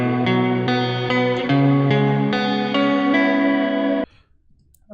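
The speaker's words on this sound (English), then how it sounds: "here I have a guitar loop" A clean electric guitar loop plays steady sustained chords with crisp attacks, loud and up front, running continuously before cutting off abruptly near the end, leaving near silence.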